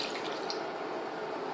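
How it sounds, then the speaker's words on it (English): Water splashing and sizzling into a pan of frying onions, a steady broadband hiss and patter throughout, close and continuous with no talk. "what I do is I pour in some water"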